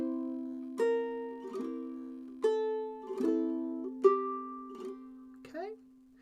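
A ukulele plays measure 19 of Freight Train: a short melodic run of clear plucked notes over ringing strummed chords, close and distinct, with a fresh attack about every second and the strings sustaining between them.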